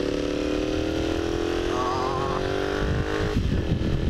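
A Honda CX motorcycle engine under way, a steady droning hum rising gradually in pitch as it accelerates, then easing off near the end, with rushing wind noise throughout.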